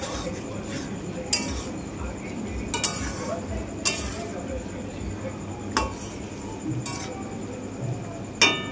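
Chanda fish curry stirred in a pan with a metal spoon, giving repeated sharp clinks and scrapes against the pan at an uneven pace over a low cooking background.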